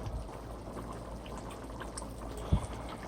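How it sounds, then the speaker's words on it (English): Water trickles and pours faintly into a pot during Sunday dinner cooking of cube steak smothered in onions and sweet peppers, a steady soft liquid wash with a brief knock partway through. "Pour me a little bit more water in there."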